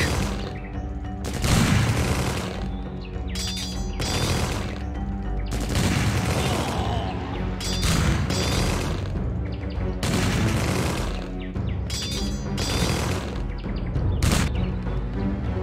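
Rifle and machine gun fire rattles through an Empire Earth video game battle in a Soviet Bolshevik-era campaign. Dense bursts of gunfire and booms come in waves over a full, loud battle soundscape.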